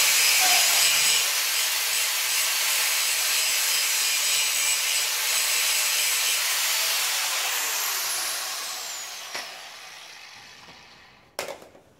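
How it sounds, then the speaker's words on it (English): An angle grinder grinding off metal on a homemade tree spade attachment, a loud continuous abrasive rasp that slowly fades as it winds down, followed by a couple of sharp metallic knocks. "I could grind off some of this just to give it a little bit better set"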